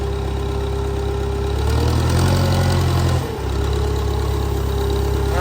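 A Case 580CK backhoe diesel engine running and being put into gear, a loud steady rumbling idle that deepens as the load comes on, briefly dips, then settles back.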